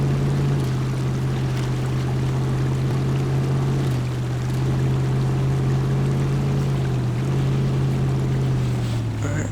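A four-wheel-drive truck crossing a small river in the SnowRunner video game, a steady droning engine hum that shifts pitch a few times under a constant wash of splashing water noise, without speech.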